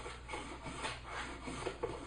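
A homemade rabbet plane takes light smoothing cuts along a wooden workpiece, giving soft, repeated rasping strokes at close range with no talking.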